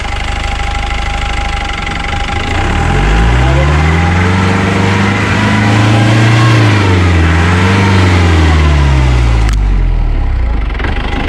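A motorbike engine revs loud and close while the bike is eased down rough, stony ground, its pitch swelling and dropping in long surges before cutting off near the end.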